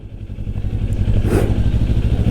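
A stock Kawasaki Ninja 500 engine rumbles steadily up close at moderate speed in second gear, a low throbbing drone with a brief gust of wind noise midway.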